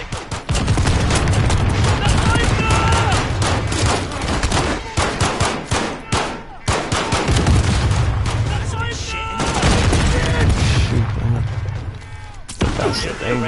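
Dense, loud gunfire and blasts in a shooter video game, rapid bursts and heavy impacts running almost continuously, with a brief lull before a final volley and game voices talking under the noise.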